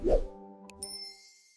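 A single clear notification bell ding rings out after a soft plop, its bright tone lingering and fading smoothly.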